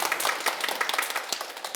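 Audience applause rings out at a Sunday Buddhist dharma gathering, a short burst of many hands clapping in quick, dense succession, moderately loud and unaccompanied by talk.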